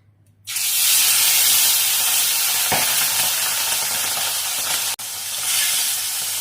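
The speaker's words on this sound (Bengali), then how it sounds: "তেল রেডি হয়ে গেছে। এবার দিয়ে দিচ্ছি ট্যাংরা মাছ।" Tangra fish dropped into hot mustard oil, bursting into a loud, steady sizzle that hisses continuously close up, with a brief cutoff before the frying resumes, no talking.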